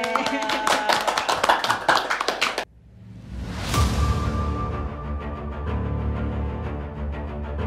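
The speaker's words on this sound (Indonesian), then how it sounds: "Tepuk tangan dong." Studio audience clapping at the opening of an online dialogue show, a dense burst of hand claps that cuts off abruptly, followed by a rising whoosh and a sustained musical tone.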